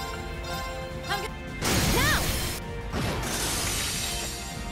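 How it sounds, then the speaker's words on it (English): Glass shatters loudly in a Trails of Cold Steel 2 game scene, a bright smashing impact with a swooshing tail that holds for about a second over steady game background sound. "Shattered like glass."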